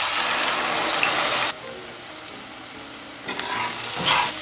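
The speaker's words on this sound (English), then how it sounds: "Now that our oil is heated up, we are now going to add the onion puree." Onion puree frying in hot oil in a pot sizzles loudly up close, stirred as it cooks, with the hiss dropping briefly and then swelling again in bursts.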